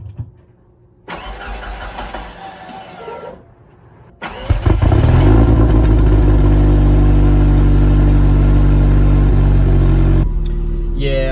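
A car with a failing starter cranks in short, halting bursts before the engine catches and settles into a loud, steady idle.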